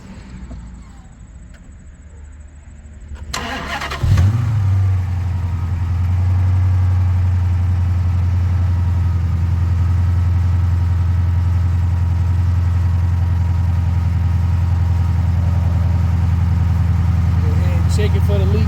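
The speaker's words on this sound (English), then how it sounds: "Now it's time to start it up." A Dodge Challenger engine, just refilled with seven quarts of oil, cranks and fires after a quiet start, then settles into a loud, steady, deep idle close by, with a voice talking over the first seconds.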